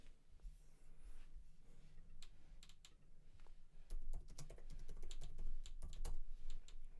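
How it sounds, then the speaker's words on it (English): Steady computer keyboard typing, quick irregular key clicks and clacks at close range, growing busier and denser partway through, with no talking. "I'm now to typing"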